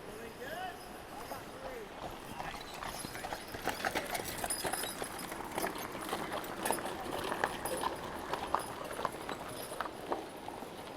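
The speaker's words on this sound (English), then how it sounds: "I think I hear the horse and buggy coming." A horse pulling a buggy hauling firewood clip-clops along on a West Virginia mountain trail near a creek, steady rhythmic hoofbeats drawing closer over outdoor ambience, with someone speaking.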